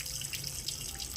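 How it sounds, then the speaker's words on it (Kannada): Dirty water drains from the bottom of a water tank being cleaned, making a soft, steady running and trickling sound that is quiet and very brief. "ಎಷ್ಟು ಹೊಲಸು ನೀರು ಬರ್ತಾ ಇದೆ ನೋಡ್ರಿ ಕೆಳಗಡೆಯಿಂದ."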